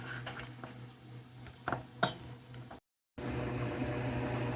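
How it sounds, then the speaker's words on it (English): Potatoes being mashed in a pot for a tourtière meat pie, a series of soft thuds and scraping clinks of the masher against the pot over a low steady hum, interrupted by a short dropout. "mash the potatoes up real good"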